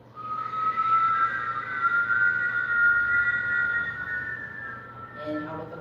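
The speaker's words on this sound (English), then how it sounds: "Just listen to the sound of your own whistling breath." A long, steady whistling breath during kundalini yoga meditation, sustained and close, ending with a brief softer tone.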